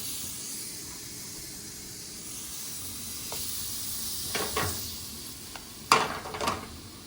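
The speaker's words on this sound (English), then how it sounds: "See that sizzle?" Tofu sizzles and hisses steadily in a hot pan, with a few sharper crackles and spits toward the end.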